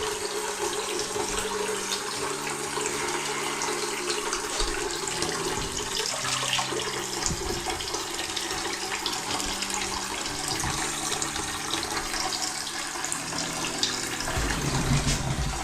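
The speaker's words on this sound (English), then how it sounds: "I like to fill the sink right up to the top" Water runs steadily from a Moen Genta faucet into a bathroom sink as it fills to the top, a continuous close gush with no talking.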